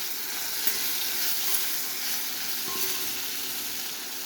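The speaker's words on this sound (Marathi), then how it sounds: "आता आपण पाणी टाकू थोडंसं" Water splashes into a pan of green chillies frying for a Maharashtrian chilli dish. A loud, continuous hiss and sizzle fills the whole moment, close up, with no talking.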